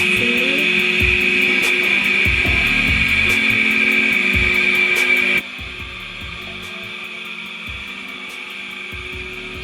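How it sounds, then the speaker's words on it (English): A Sophinique robot floor cleaner runs with a loud, steady whine and hiss like a vacuum cleaner, mixed with scraping and knocking as it moves, then drops noticeably quieter about halfway through and keeps running. "It's quite loud, by the way. It's like a vacuum cleaner."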